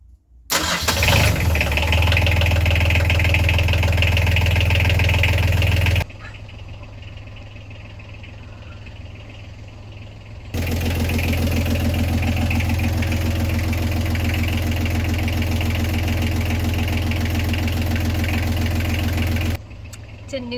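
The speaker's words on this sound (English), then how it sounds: "I'm turning the engine over." A boat engine cranks and catches, then runs at a steady idle; the note drops quieter for a few seconds, then returns to a louder, even idle before cutting off, with people talking nearby.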